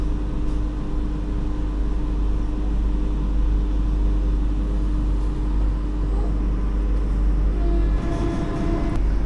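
The 20633 Kasaragod–Thiruvananthapuram Vande Bharat Express running toward Shoranur produces a loud, continuous rumble with a steady low hum and a faint rattling texture that persists without a break.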